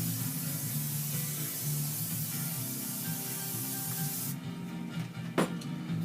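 Short spray from a can of cooking oil onto the grate of a Komodo Kamado grill before cooking steak, a steady close hiss that stops partway through, followed by a brief metallic clink.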